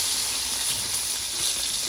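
Tilapia and pangas fish fry in hot oil, giving a steady, close, unbroken sizzling hiss with no voices over it.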